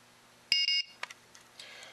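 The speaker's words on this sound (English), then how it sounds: "That's the tone that you'll hear to alert you to look down and see what," A Strike Alert compact lightning detector gives a short, shrill two-pulse electronic beep, close and clear in a quiet room, followed by faint clicks of handling.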